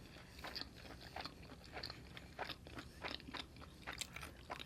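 Close, quiet crunching and wet chewing of a taco with generous meat, with irregular bites and mouth sounds repeating steadily, no talking over it.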